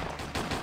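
Technician infantry units firing in Command & Conquer: Counterstrike, a short burst of several quick, sharp gunshots in rapid succession, loud and close with no talking.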